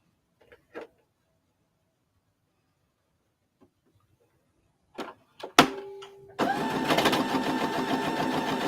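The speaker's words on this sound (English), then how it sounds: "My bobbin making a weird noise under there" A sewing machine's bobbin area, in use while piecing a beginner's quilt block, starts up after a few scattered knocks and clicks and then runs on in a steady, dense mechanical whir close by, with a faint tone beneath.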